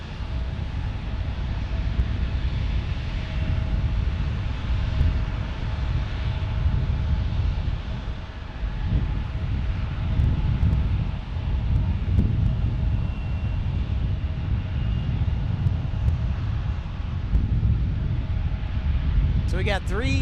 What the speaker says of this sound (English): So we got 3 E175s in a row. This one from Delta and then 2 Alaska Airlines.